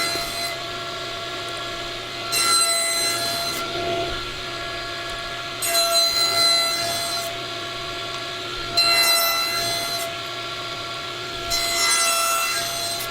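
Saw with a single blade cutting box joint fingers in wood, four separate bursts of loud rasping cutting, evenly spaced, with a quieter steady motor hum between the cuts.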